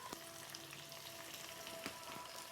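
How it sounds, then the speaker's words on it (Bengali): Chopped onion frying with potato pieces in a pan, giving a faint, steady low sizzle with a few light stirring clicks and no talk. "আলুটা কিছুক্ষণ ভেজে নিয়েছি, দিয়ে দিচ্ছি পেঁয়াজ কুচি। এর আলুর সাথে পেঁয়াজটাও ভেজে নেব।"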